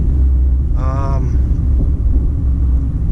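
A car engine runs with a steady, close low rumble throughout, someone talking briefly over it.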